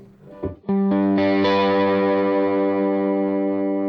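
Electric guitar played through a Line 6 POD Express on its Matchless AC30/DC30-style chime amp model: a brief scratchy lead-in, then a loud, sustained ringing chord with a bright, slightly driven tone, alone and without talk.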